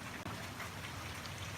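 Steady rain pours down outdoors during Hurricane Dorian, a dense, even hiss of drops hitting surfaces close by, with no talk.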